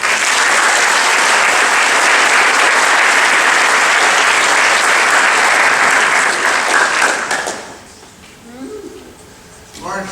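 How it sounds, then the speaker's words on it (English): Audience at a senior awards ceremony applauds the faculty with loud, dense clapping that fills most of the stretch before tapering off into quieter room sound and a few scattered claps. "let's give a round of applause to our faculty"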